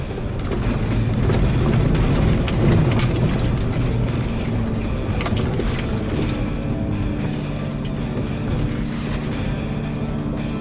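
A Jeep Wrangler climbs an off-road hill in high range, its engine droning steadily and loudly up close while mechanical clunks and ratcheting rattles from the drivetrain sound throughout.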